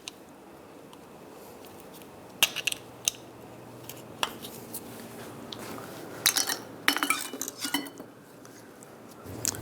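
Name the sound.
prying caps off a brake caliper with a screwdriver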